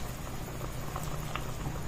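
A pot of pork and corn for nilaga boils continuously, with dense bubbling and popping close by.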